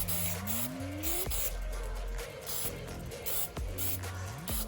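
Short bursts of spray paint hiss as a thin patina coat goes onto an RC crawler, repeated close-up sprays with brief pauses and a faint motor whine underneath.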